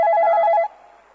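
A telephone gives one loud, bright electronic ring burst that stops abruptly after a moment, leaving a low quiet room tone with no talking.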